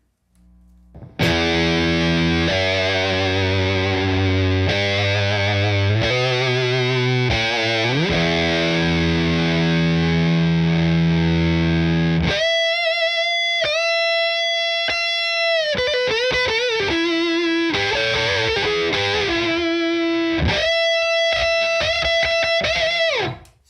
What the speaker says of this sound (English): Now we'll switch over to the Vintage Distortion on the same setting, or same as I can get.